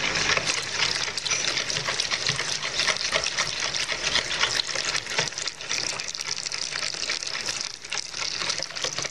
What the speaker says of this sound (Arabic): كنضيفوا الكميه ديال الحليب اللي عندنا كلها، اللي هي نصف لتر من الحليب، وكنحرك مزيان